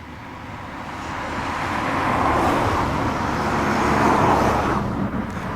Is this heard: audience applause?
no